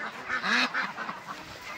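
A big duck at a farm gives a few loud honking quacks, the strongest near the start, then fainter calls trailing off.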